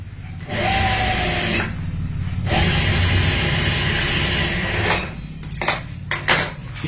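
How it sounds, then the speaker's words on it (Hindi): A sewing machine stitching a half-inch seam on a fabric bag, a steady, loud mechanical whir that runs for several seconds, pauses briefly, then resumes, ending with a few short clicks and handling sounds. "यहाँ पे बिल्कुल सही तरीके से इसको रखते हुए ऐसे सेट करते हुए आपने आधा इंच वाली सिलाई लगानी है।"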